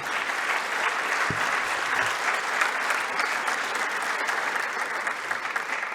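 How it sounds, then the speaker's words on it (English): A conference audience applauds warmly after a presentation by the Governor of the Central Bank of Chile, a steady, even wash of many hands clapping throughout, with one brief low thump near the start. "let's give another round of warm applause to Mrs. Rosanna Costa's presentation"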